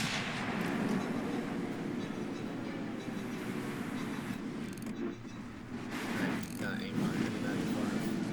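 Heavy warship guns firing in the World of Warships naval game, a dense continuous rumble with booming salvos over steady background noise, with a faint voice.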